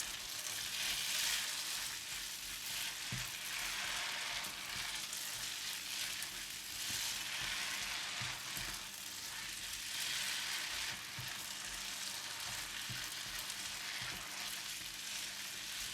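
Flat rice noodles with chili and chives stir-fried in a hot pan give a steady, loud sizzle with occasional scraping stirs, continuous throughout with no talking.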